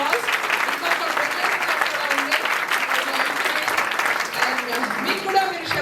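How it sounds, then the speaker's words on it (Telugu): Sustained applause from a church audience at a semi-Christmas gathering, honoring the pastor's wife as she comes to the front; dense, steady clapping fills the whole stretch at an even level. "please give her a very big hand of applause"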